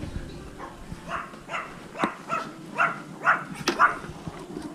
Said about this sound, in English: This dog always comes out when I leave.